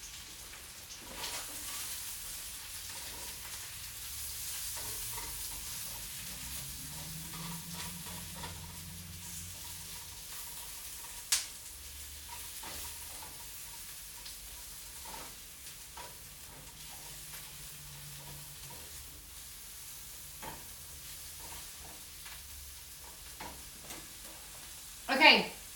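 Salmon frying in butter in a pan gives a steady, soft sizzle throughout, with scattered faint pops and a sharper clatter near the end.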